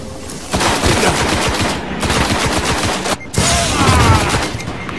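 Rapid, dense bursts of gunfire from the video game Destiny, including sniper fire, crackle loudly and almost without pause, broken by two very brief dropouts.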